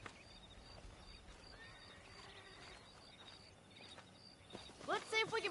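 A horse in the Red Dead Redemption western game, near a pack of wild horses, gives one short whinny near the end. It comes after several seconds of quiet ambient game sound.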